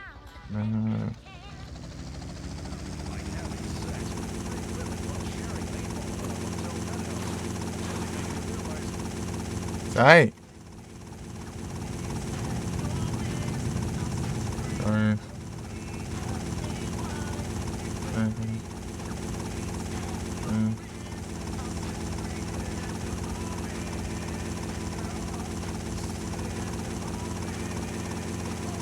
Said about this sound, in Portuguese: É um helicóptero, velho.